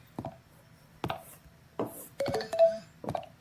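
A phone is tapped and used in a horror video game, with five short sharp clicks or taps spaced unevenly and a brief tone near the end, against near silence.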